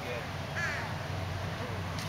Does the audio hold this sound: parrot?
yes